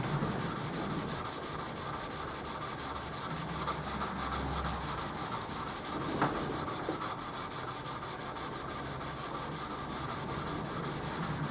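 A hand rubbing a wood finish with an abrasive on a flexible backing, a steady, faint, continuous back-and-forth scrubbing.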